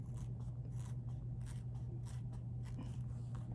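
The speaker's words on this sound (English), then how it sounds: "I'll use my fabric scissors. And then I just cut it on out." Fabric scissors cut out an embroidered vinyl keychain made on a Brother embroidery machine, giving a quick run of repeated crisp snips and slides close by over a steady low hum.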